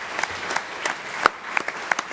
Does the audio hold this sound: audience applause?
yes